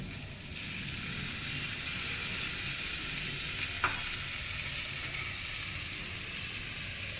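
Egg and potato with turmeric sizzle in hot mustard oil as they are stirred, a steady close frying hiss with a single faint scrape.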